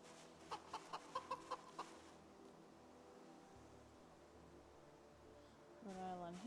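A Rhode Island hen in a zombie video game's garden gives a quick run of six or seven short, quiet clucks, followed by low background ambience, then a person begins talking near the end.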